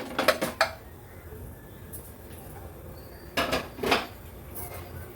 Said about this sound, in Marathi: कुकर पण थंड झाला आहे झाकण काढून बघूया आपण